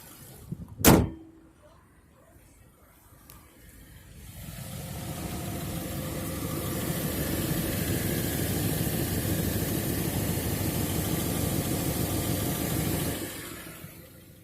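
A car engine idles steadily at close range with a faint ticking blamed on a clogged catalytic converter, following a sharp thump like a door closing.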